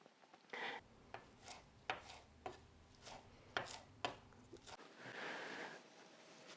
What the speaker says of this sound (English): Here we are with our fresh cilantro. We're gonna give it a chop.